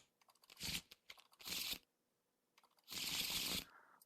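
Arkham Horror LCG cards are shuffled back into a deck in three quick riffling bursts with short pauses between them. The sound is close and faint.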